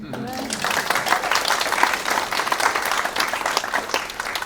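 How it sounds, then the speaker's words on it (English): Crowd applause at a Scottish fiddle event tied to Highland Games in Salado, Texas, brisk dense clapping sustained throughout after a voice at the start. "A big round of applause."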